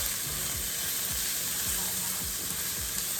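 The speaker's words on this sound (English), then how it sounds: "So just adding in the rest of this fajita sauce. Give that a good stir." Pasta and other ingredients sizzle in a pan while fajita sauce is stirred through, a steady close frying hiss with soft scraping strokes repeating every half second or so.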